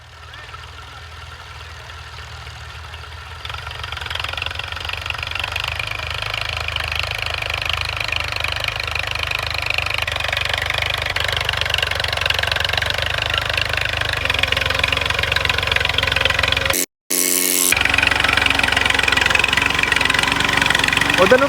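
Tractor engine running steadily in a farm field, a loud continuous mid-pitched rumble with a knocking idle quality that grows fuller after a few seconds, briefly cut by a short gap near the end.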